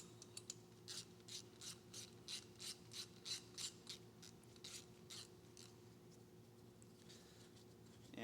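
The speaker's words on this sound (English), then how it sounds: "So we're going to start by taking off this bolt, and it is a 12mm." Ratchet wrench loosening a 12mm bolt on a Honda F32A engine during disassembly: a run of about a dozen quick, crisp ratcheting bursts in a steady rhythm, close and fairly loud, then a quieter pause with a low hum underneath.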